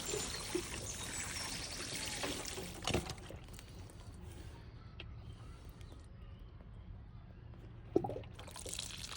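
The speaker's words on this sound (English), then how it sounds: "I'm going to give it all a good water to try and get it to settle" Water pours steadily onto freshly filled soil around a layered Rhododendron macabeanum, a soft close trickle and splash with a few brief knocks.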